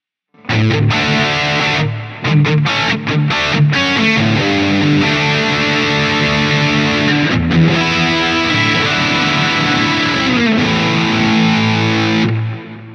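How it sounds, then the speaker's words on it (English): A thick, shimmering distorted electric guitar in a 1990s style tone on a Quad Cortex, with pitch-shift chorus, delay and reverb, plays a long riff of chords and sustained notes, loud and continuous before ringing out. "and then our pitch shift for our chorusing effect."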